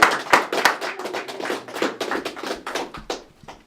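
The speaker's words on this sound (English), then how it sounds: "Please give a big round of applause for Mr." Applause and clapping from a comedy club audience in Fort Collins greeting a stand-up comedian, a dense burst of many hands that starts strong and gradually thins out over a few seconds.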